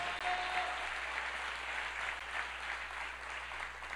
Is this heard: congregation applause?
yes